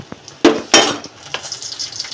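Taro leaves (kochu shak) are stirred in a cooking pot: a few scraping, clinking spoon strokes against the metal, with a faint sizzle underneath, close and fairly quiet.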